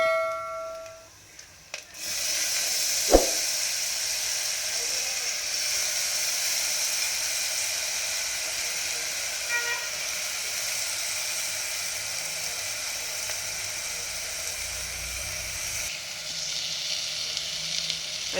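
Soaked moong dal hitting fried onions in a hot pan produces a steady, loud sizzle that starts abruptly with a brief clatter and continues evenly for a long stretch, with no talking.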